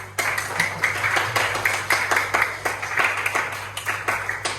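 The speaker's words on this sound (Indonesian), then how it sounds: "Beri applause, tepuk tangan." A school class claps for a student group in a rhythmic, fairly even beat of about three claps per second, close and distinct over a low electrical hum, continuing for several seconds.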